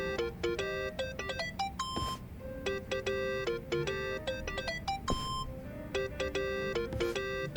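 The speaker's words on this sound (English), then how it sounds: "Think that's your phone, man." A melodic electronic phone ringtone chimes in the video game Yakuza: Like a Dragon, its bright beeping pattern repeating several times in steady phrases with brief pauses, loud and clear with no talking.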